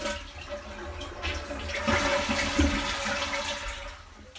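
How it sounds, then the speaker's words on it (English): A toilet being flushed during a flange repair, a loud rushing gush of water swirling and draining close by for several seconds, with no talking. "Flush the toilet."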